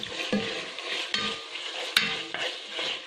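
Pancit bihon rice noodles are stir-fried and mixed in a pan, with close, repeated utensil scrapes and clacks over a steady sizzle, no talking.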